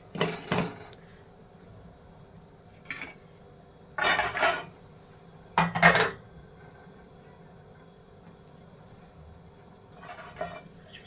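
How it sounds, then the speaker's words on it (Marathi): A metal lid is set onto a pot of cooking dill greens with a few sharp clanks and rattles, in short bursts separated by quiet, then a faint clink near the end. "भाजी शिजेपर्यंत आपण दोन मिनटासाठी झाकण ठेवून घेऊया"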